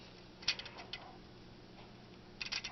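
Small plastic Lego Transformers Rampage hand parts being rotated give a few light clicks and ratcheting ticks, close and quiet, in two short clusters separated by a near-silent gap.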